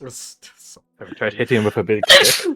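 A sudden sharp sneeze bursts out at the end, following a stretch of casual conversation between people.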